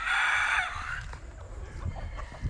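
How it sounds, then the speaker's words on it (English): A rooster on a Jamaican mountain path crows loudly in one sustained, wavering call, then the flock clucks more quietly in the background among footsteps and outdoor rumble. "you can hear the chickens in the background."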